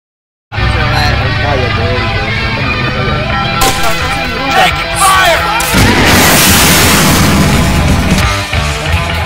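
Gunfire and heavy booms from an Arma 3 multiplayer firefight near a gas station, a steady loud roar of rumbling shots and blasts running throughout, with occasional voice chatter mixed underneath.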